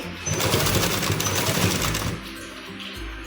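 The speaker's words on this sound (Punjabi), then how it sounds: "ਆਪਣੀ ਸਲਾਈ ਲੱਗੀ ਜਾਂਦੀ ਹੈ" Sewing machine stitching gum lace, a fast, steady mechanical chatter that runs close and loud without a break, easing slightly toward the end, with no one talking.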